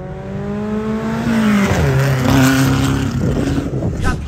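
A Fiat Uno engine revs hard while drifting on a track, rising and falling pitch with a gear change and tire scrub, loud and close with a commentator's voice over it.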